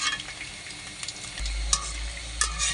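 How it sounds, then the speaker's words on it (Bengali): Chicken pakora being turned and deep-fried crisp in oil, a steady close sizzle and bubbling throughout with a few sharp crackles and a louder burst of frying about halfway through; no talking. "এভাবে উল্টে মচমচে করে ভেজে নিতে হবে।"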